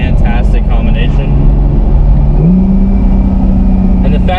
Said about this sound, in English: almost as soon as you step on it, you have those turbos spooling up